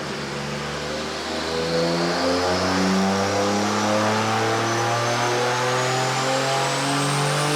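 A turbocharged 1JZ engine revs on a dyno, building from a steady idle into a loud, sustained, rising roar with a faint turbo whistle above it, close by and with no talking.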